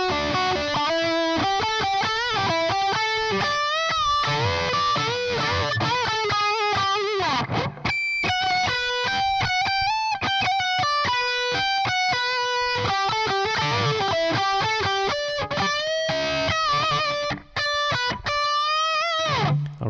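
Distorted electric guitar plays a solo. A continuous run of sustained, gritty notes and bends lasts the whole stretch, loud and close with no talk.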